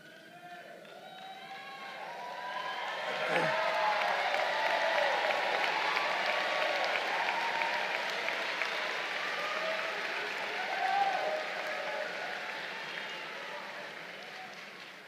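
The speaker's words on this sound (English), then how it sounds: "Y'all are cheering." A graduation commencement audience for a class of 2023 breaks into sustained applause and cheering, a dense roar of clapping and voices that swells after a few seconds and holds steady, loud and enveloping.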